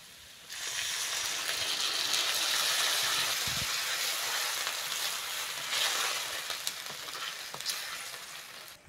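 Water poured into a pan of frying onions and potatoes, setting off a loud, close, crackling sizzle that rises sharply then hisses on steadily with small pops, fading slightly toward the end.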